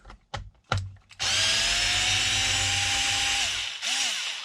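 A power drill spins out screws on a Traxxas XRT RC truck, with a few short clicks and bursts before a sustained loud whir that drops away near the end and then briefly restarts.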